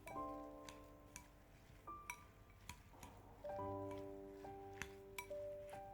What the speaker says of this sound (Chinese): 用筷子搅拌均匀，使白菜和蛋液充分的融合在一起